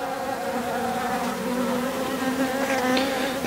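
Honey bees buzz inside an opened hive with six frames and a plastic feeder, a close, continuous, wavering drone from many insects.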